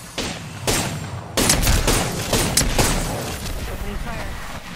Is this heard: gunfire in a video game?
yes